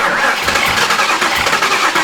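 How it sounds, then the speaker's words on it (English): A Saleen Mustang V8 being cranked over by its starter with the fuel injectors unplugged: a loud, close, rapid churning whir with a pulsing rhythm that continues throughout without catching. "I'm just gonna crank it over like twice, try and build up some oil pressure"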